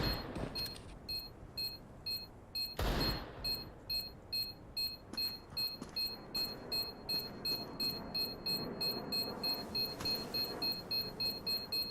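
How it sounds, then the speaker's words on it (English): A planted bomb in Counter-Strike: Global Offensive beeps in a steady, evenly spaced rhythm for about twelve seconds, with faint game ambience beneath and one louder burst early on. "Bomb has been planted."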